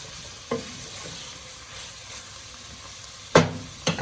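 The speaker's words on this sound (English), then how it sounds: "Before we finish up the carrots, we're going to give a little stir." Carrots for lentil soup stirred in a sizzling pot, a soft steady fry hiss broken by a few sharp scrapes of the spoon, close and alone.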